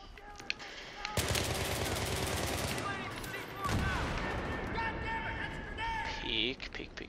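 Automatic gunfire in a first-person shooter game, crackling in dense bursts with a heavy barrage starting after the first second, mixed with game effects and someone talking over it.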